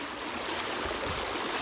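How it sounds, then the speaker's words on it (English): A strong stream current rushes past close by after a beaver dam was removed, a steady dense wash of flowing water with no talking. "Look at this current. If you noticed from the beginning of the video, it wasn't like this. Now look at all the water going past my leg."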